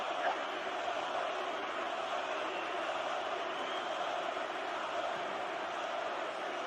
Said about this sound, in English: There was a huge roar for like a minute and a half, it felt like